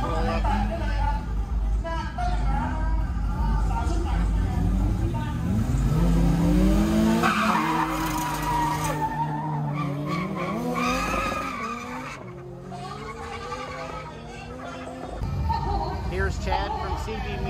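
Honda Brio racing a Toyota Corolla at Pathum Thani Speedway: engines rev and whine with tires squealing and skidding, rising and falling pitch, while people talk excitedly over the noise.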